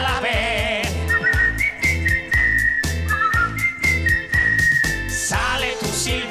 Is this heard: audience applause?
no